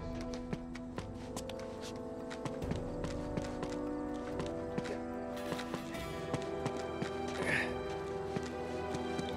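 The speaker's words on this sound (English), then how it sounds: "Now all we need is a horse." Horse hooves clip-clop in a steady, evenly spaced rhythm in the video game Uncharted 2, moderately close, under a game soundtrack and some character voices.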